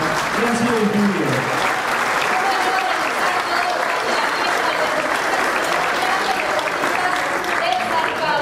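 Sustained audience applause honouring five athletes at a best-athlete awards ceremony, a dense, even wash of clapping lasting several seconds, with a voice briefly heard at the start.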